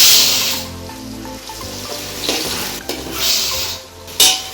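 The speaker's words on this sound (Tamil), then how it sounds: "கொஞ்சம் உப்பு சேர்த்து வதக்கிக்கலாம்" Onions sauté in a pan with a little salt while Dindigul Thalapakatti mutton biryani is being made, giving soft sizzling and frying, stirring scrapes and occasional clinks of metal on the pan.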